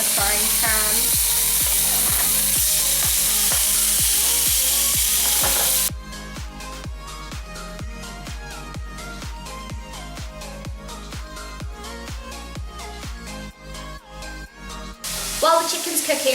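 Chopped chicken sizzling and frying in a frying pan, a steady loud hiss with rhythmic thumps; partway through the sizzle grows denser and brighter, dropping back near the end.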